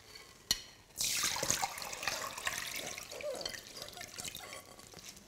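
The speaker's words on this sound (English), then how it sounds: "So I just need to strain this." Cooked rice noodles being strained, water rushing and draining steadily for several seconds after a brief clack, close and fairly loud, fading slightly toward the end.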